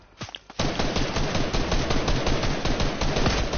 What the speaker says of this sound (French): Derrière moi ça tire.